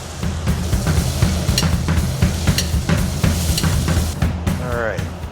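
A salmon croquette fries in a hot pan of oil and butter for a Southern dish, a steady close crackling sizzle with small bursts running throughout under a low background hum.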